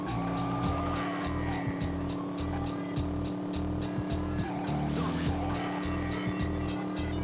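Handbrake skids and screeching tire squeals from a car in the Driver 2 Advance racing game, repeated bursts of screech over a steady, loud engine drone with rhythmic thumping throughout.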